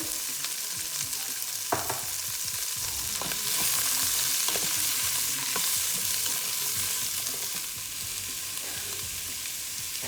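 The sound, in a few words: stirring cut vegetables frying in oil in cast iron pot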